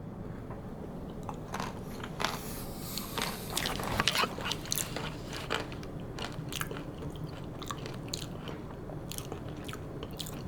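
Close, wet crunching and chewing of a scoop of Peter Pan peanut butter mixed with almonds and honey, with irregular bites and crackles continuing steadily throughout.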